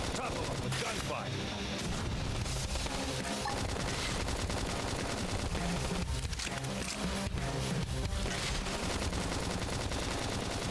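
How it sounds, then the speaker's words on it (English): Rapid bursts of gunfire in Xenoblade Chronicles X: Definitive Edition crackle nonstop, dense and loud, with booming impacts mixed into a busy soundtrack. "Topple him with gunfire."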